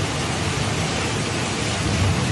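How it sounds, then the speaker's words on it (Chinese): A morning thunderstorm over Penghu pours torrential rain, a loud, dense, unbroken roar of downpour blended with rumbling thunder, close and continuous with no voices. "雷声轰隆隆狂炸，再配上倾盆大雨"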